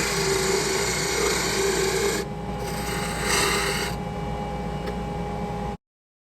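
Catalpa wood bowl being cut down to remove material, a steady close rasping and grinding with a brief shift in tone midway, running continuously before stopping abruptly.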